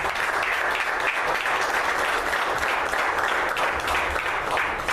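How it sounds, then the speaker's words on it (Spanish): A congregation in a Church of the Nazarene service in Winter Haven applauds, many hands clapping in a sustained, lively wash with individual claps poking through. "Dale un aplauso a Cristo."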